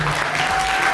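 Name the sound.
audience applause welcoming a guest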